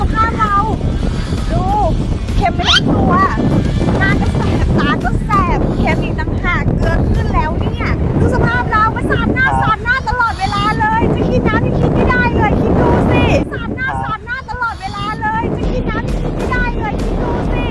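Passenger boat ride across the sea to Koh Larn island, with strong wind buffeting the microphone and a steady engine and water rush throughout, while people talk loudly over it.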